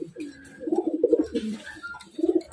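A dove or pigeon coos several times in soft, throaty, repeated phrases, close and clear, with brief pauses between bursts and a final coo near the end.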